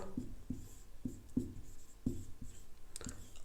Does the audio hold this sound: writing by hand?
yes